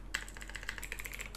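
Quick, light keystrokes on a computer keyboard while writing Power Query M code: a short, soft run of closely spaced clicks with no voice.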